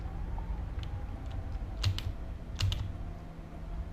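Keys clatter on a computer keyboard in irregular bursts, with two louder clusters of presses standing out against a quiet background and no talking.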